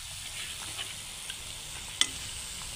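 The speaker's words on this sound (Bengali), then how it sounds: "এইভাবে করে উল্টিয়ে পাল্টিয়ে একটু ভেজে নেব সুন্দর করে, মুচমুচে করে" Potato chops frying crisp in hot oil, a soft continuous sizzle with a faint utensil tap partway through, heard alone at low level.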